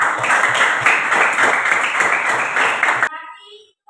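A classroom group claps in steady, dense applause lasting about three seconds, then it cuts off abruptly into a short spoken remark.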